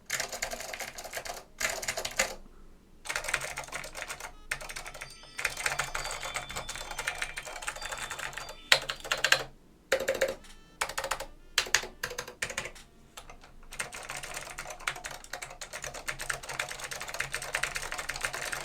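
Typing on a Northgate Omnikey Ultra keyboard fitted with clicky Blue Alps switches: dense bursts of sharp, close clicks in fast rhythm, broken by short pauses, with no voice.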